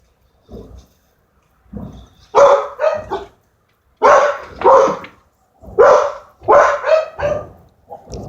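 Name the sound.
dogs barking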